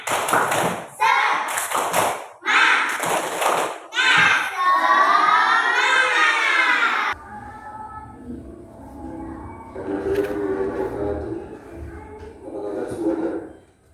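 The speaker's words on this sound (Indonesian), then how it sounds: "Tepuk semangat." Children in a classroom perform the rhythmic Indonesian 'tepuk semangat' clap, bursts of patterned claps alternating with shouted chanting, followed by a teacher speaking over lighter classroom noise.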